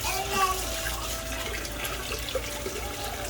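A kitchen tap runs steadily over a boiled egg while its shell is peeled, a continuous splashing hiss with a faint voice speaking underneath.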